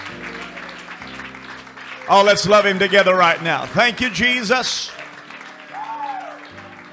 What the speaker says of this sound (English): Let's clap our hands unto the Lord and give Him thanks.